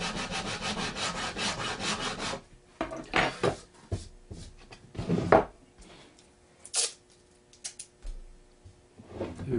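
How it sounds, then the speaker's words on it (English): Metal file rubbing down cut-off pins on a bass guitar, dense rasping strokes at first, then scattered single scrapes and short bursts with quiet gaps, close and clear. "cut them off, and take a file and even them out a little bit."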